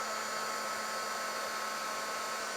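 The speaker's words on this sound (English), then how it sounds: "Bring in my embossing tool, and I'll emboss it over here just so we're away from that." A heat embossing tool blows hot air over a card decorated with gold embossing powder, giving a steady, fairly loud whoosh like a hair dryer that holds without a break for the whole stretch.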